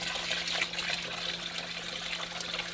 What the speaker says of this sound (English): I want to flush these out, so I'm going to leave them out to the side and flush it into a bucket